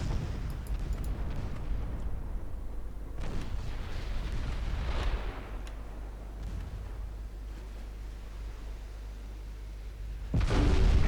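Naval guns firing in the warship battle game Ultimate Admiral Dreadnoughts, heard as a steady rumbling roar of heavy gunfire with deep booms, growing louder in a sharp final burst near the end.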